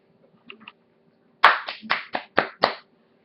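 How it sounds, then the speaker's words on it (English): A person claps using just two fingers, giving six sharp, close claps in an uneven rhythm after a few faint soft taps, with no talking. "I can clap with 2 fingers"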